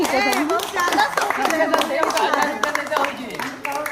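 Children clap their hands in quick bursts, partly buried under lively, excited voices talking over them.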